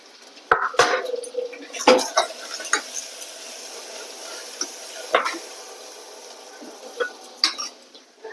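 A spoon stirs onion-ginger-garlic paste with turmeric and asafoetida in a pan, with sharp metal clanks and scrapes at irregular intervals over a faint, steady sizzle.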